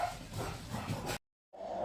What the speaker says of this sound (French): mon chien se met à japper.